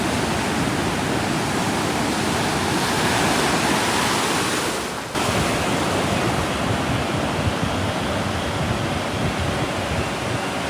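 Rough, stormy sea waves break on a beach, making a loud, continuous roar with a wind-like hiss and only a brief dip midway.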